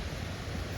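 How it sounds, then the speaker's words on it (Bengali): A waterfall flows beside a mountain road on the way to Hampta Pass in Himachal Pradesh after rain, heard as a brief, steady broadband rush of water with no voices. "তোমরা এখন শুনতে পাচ্ছ ঝর্ণার আওয়াজ,"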